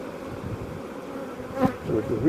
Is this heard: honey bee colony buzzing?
yes